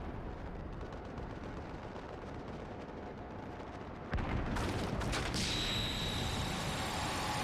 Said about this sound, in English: The classic flashbang escape.